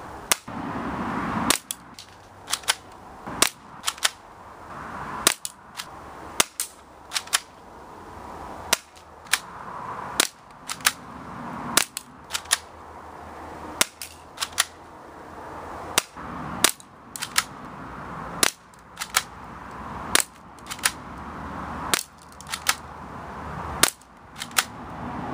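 Double Eagle M39 spring-action BB pistol fired repeatedly at a target about 15 meters downrange: a long series of sharp, snappy shots at irregular intervals, each followed by a short mechanical clack, with no voices.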